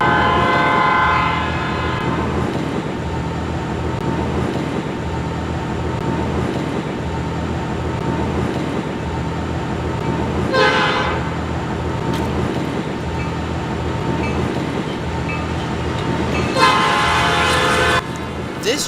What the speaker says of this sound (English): the JW freight train came across the diamond